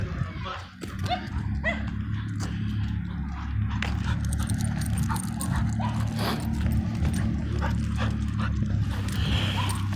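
A rescued Chihuahua–Greyhound mix dog at a park gives yips and whimpering barks, with short sharp bursts scattered through steady outdoor background noise.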